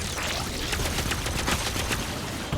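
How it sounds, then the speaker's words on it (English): Smart pistol gunfire in a Destiny 2 trailer, a rapid dense fusillade of shots over loud game effects, continuous for a couple of seconds. "It's a smart pistol from Titanfall."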